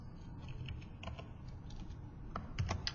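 A web address being typed on a computer keyboard, a quiet run of quick, close key clicks in an irregular rhythm with no voices.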